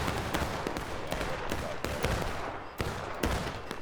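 Distant musket volleys and scattered rifle fire echo across a large Civil War battle in War of Rights, a dense, noisy crackle with repeated sharper reports rising above a constant rumble.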